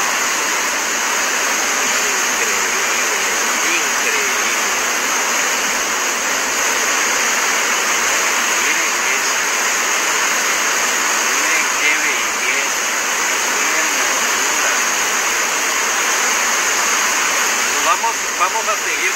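Water rushes loudly and steadily through a fish pass on the Brown River, a continuous close roar that fills the scene while a person talks over it.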